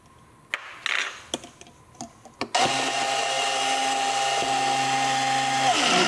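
A few sharp clicks and taps give way to a steady, loud whir as a mixer spins up at high speed, blending a thickening hyaluronic acid serum without pause.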